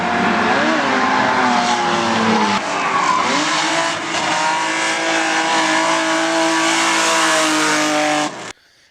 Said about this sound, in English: This is my M50 swapped BMW E30 that I also built inside of this shed.